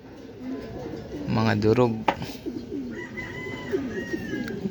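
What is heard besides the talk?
racing pigeons cooing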